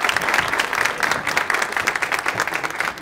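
A live comedy show audience applauds to send off comedian Sinan Güleryüz, sustained loud clapping from many hands with a slightly uneven rhythm and no talk over it.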